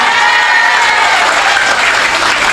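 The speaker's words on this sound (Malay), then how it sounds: "tepuk tangan bu" A gathering at an Islamic religious lecture claps their hands, a very loud, dense and continuous burst of applause from many people, with faint tonal cheers or voices mixed in near the start.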